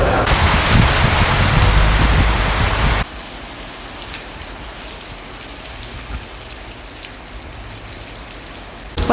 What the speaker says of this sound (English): because the rain is coming